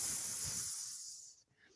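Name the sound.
voice imitating an angry cat's hiss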